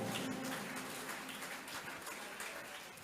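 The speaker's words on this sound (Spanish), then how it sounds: "Alguien que aplauda fuerte al Rey de Reyes y Señor de Señores." Church congregation applauding during a Spanish-language sermon, a faint, distant, continuous wash of many hands clapping that holds steady throughout.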